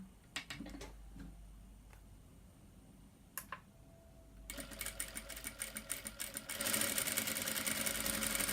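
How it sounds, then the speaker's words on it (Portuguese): A sewing machine topstitches a round fabric bag in pink thread: a few isolated clicks and taps first, then close, rapid, steady stitching that grows louder and runs continuously to the end. "E vamos fazer um pesponto para fazer o acabamento."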